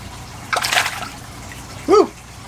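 A large bluegill released from a bucket hits pond water with a single splashy burst, followed shortly by a short voiced exclamation over faint background hum.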